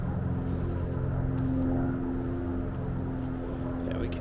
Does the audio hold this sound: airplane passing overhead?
yes